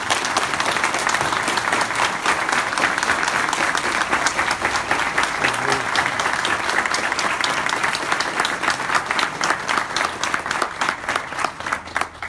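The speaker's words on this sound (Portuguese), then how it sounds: "eu queria pedir para todos vocês uma salva de palmas" A large audience at a political forum applauds warmly, dense steady clapping that holds for several seconds before thinning slightly at the end.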